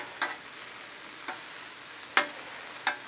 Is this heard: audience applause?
no